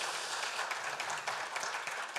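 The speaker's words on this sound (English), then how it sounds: "I would say a big round of applause for our friend here" Applause from a conference audience at an open source event, a steady dense patter of many hands clapping at moderate level throughout.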